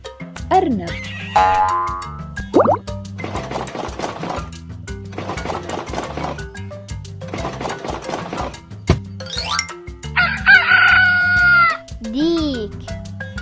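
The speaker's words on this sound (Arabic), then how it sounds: "ديك." A rooster crows within a sequence of farm animal sounds for children, set over light background music, with a voice naming animals between the calls.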